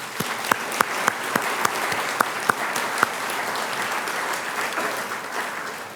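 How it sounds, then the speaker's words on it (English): An audience at a college community awards ceremony claps steadily in a hall, sustained applause with a few sharp, distinct claps standing out early, moderately loud and without speech. "Can we have a bigger round of applause?"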